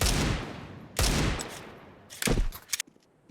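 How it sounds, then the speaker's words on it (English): Pistol fire in Counter-Strike 2 during a professional esports match round, with a burst of several quick shots, a pause, then another volley of closely spaced shots, loud and sharp with no talk. "See if any damage can be done by these pistols."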